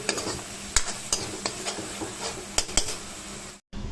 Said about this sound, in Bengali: মশলাগুলো ভাজা হচ্ছে